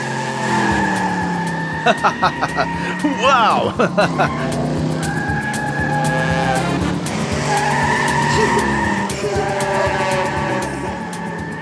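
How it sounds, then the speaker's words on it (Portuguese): A cartoon car driving and skidding, with a revving engine, squealing tires and a rapid rattling burst, while lively music plays and a voice calls out. "Um carro invisível. Isso sim é divertido."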